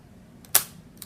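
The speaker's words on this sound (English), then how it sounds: "You heard the shutter release." A single sharp, loud shutter release click from a Fuji Instax Wide 300 camera modified with a vintage 105mm lens, preceded by a soft faint tick and followed by a small click.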